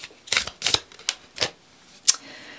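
Tarot cards being shuffled and drawn, with a handful of close, crisp riffling and slapping bursts at irregular intervals and brief quiet gaps between them.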